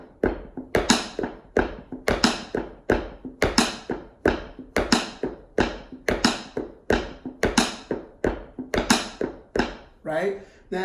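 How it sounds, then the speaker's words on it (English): A funk drum groove played up close, with sharp hi-hat-style taps at a steady, even rhythm over a Mambo bass drum pattern on the right foot, each hit loud and crisp. "we're going to put a Mambo bass drum pattern on the right foot"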